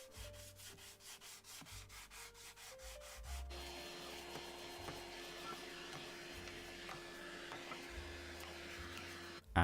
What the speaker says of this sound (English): Then I gave the divider just a quick sanding to remove any rough edges.